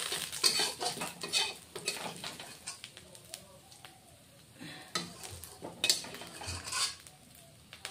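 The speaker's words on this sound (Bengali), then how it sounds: "এখন পেঁয়াজ দিয়ে আমি একটু নামিয়ে নিব কড়াই থেকে" A spatula repeatedly scrapes and clatters against a wok while fried onions are lifted out, in close, uneven metallic strokes over a faint sizzle and occasional murmured speech.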